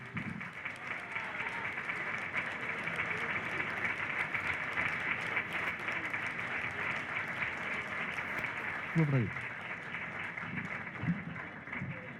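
At a 50th-anniversary festival ceremony for the Caballeros San Jorge de Alfama in Caravaca, the audience applauds in a sustained, dense crowd clap, with faint voices underneath near the end.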